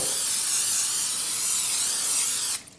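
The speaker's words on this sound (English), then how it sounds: "You can spray it if you want." Cooking spray hisses into a baking dish for a spinach artichoke dip, a loud continuous spray lasting over two seconds before cutting off abruptly, with no talking.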